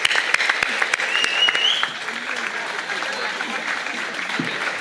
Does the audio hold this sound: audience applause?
yes